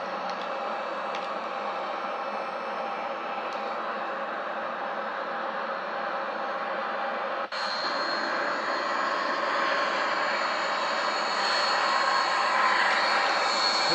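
Steady jet engine roar from a Boeing 737-800 at idle thrust in Microsoft Flight Simulator X, a constant broadband whine and hiss holding level throughout with a faint click midway and a slight swell near the end.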